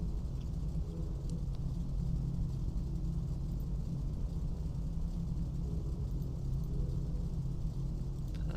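A Piper PA34 Seneca twin-engine plane takes off from runway 12 with a steady, low engine rumble and drone, heard from inside the cabin and holding constant throughout.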